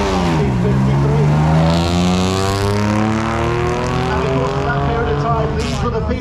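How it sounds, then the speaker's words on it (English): A 1953 Jaguar Le Mans-winning racing car with an XK engine at the Kop Hill Climb start line, its raspy exhaust loud and close, revs sweeping up and falling as it pulls away, with voices over it. "Lovely raspy exhaust."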